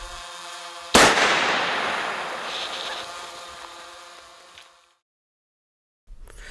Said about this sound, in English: We first shoot a conventional lead cord bullet and then a Naturalis bullet into a block of ballistic gelatin